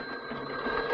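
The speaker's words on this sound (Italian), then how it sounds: "Telefono." A telephone rings in an Italian comedy film from 1955, the bell sounding steadily for about a second against a busy room ambience, with no talk over it.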